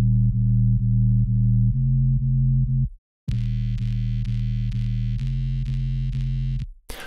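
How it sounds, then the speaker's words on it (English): A buzzy square-wave bass, heavily over-compressed with the OTT plug-in, plays a repeating note pattern, pauses briefly, then returns with harsh, gritty distortion in the highs. "it's causing this really obnoxious distortion in the high end"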